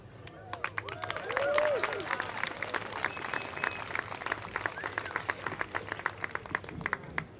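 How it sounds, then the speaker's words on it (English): An audience at an Extinction Rebellion Festival of Resistance gives Jessica a round of applause: dense clapping swells early, then holds steady and thins into scattered claps near the end, with crowd murmur underneath. "And please, another round of applause for Jessica."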